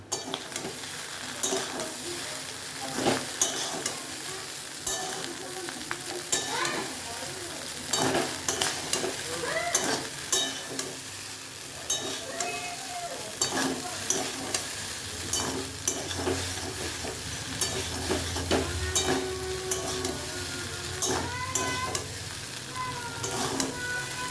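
Pasta with two packets of Maggi masala and a little sugar being stirred and fried in a pan, with a steady sizzle under repeated scraping, clinking stirs throughout.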